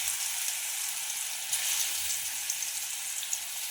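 Garlic frying in hot oil, a dense, steady sizzle and crackle heard close up with small pops, no voices over it.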